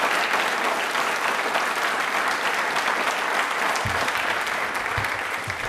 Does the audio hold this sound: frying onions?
no